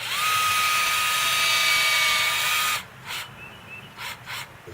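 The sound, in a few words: drill boring into a tree trunk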